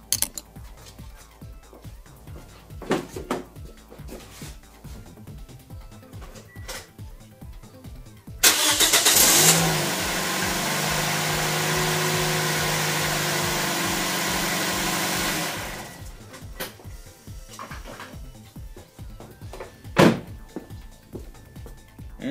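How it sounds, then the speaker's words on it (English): A car engine cranks and catches after a spark plug replacement. Loud starter whirr, then a steady idle for several seconds before it cuts off, set between quiet workshop clatter. "So now, let's start the car."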